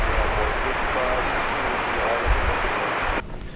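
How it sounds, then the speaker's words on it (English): An airliner passing overhead on a flight to San Francisco from DFW airport, a steady continuous jet rumble that cuts off abruptly near the end, with a voice talking over it. "There goes that flight to San Francisco"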